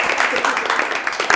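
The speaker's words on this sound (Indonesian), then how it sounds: "Oke, tepuk tangan untuk Tiswaran." Classroom group clapping for a student named Tiswaran during a group guidance session; a short burst of brisk, dense hand claps, fairly close and loud.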